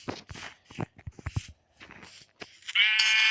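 After a few soft taps and thuds, a single loud sheep bleat from a video game rings out clearly at the end.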